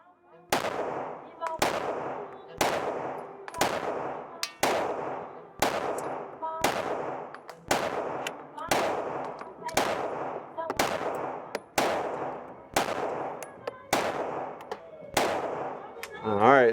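Glock pistol shots fired at a target 15 yards away, about fifteen sharp loud reports in a steady, evenly spaced string, each with a short ringing decay.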